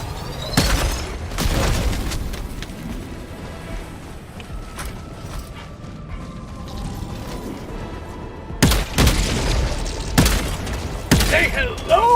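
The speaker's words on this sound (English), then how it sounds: "Throwing grenade!" A grenade explosion and gunfire in the video game Helldivers 2, with a couple of sharp blasts early, quieter mechanical clatter in between, then a loud cluster of booms and shots near the end; voices also speak.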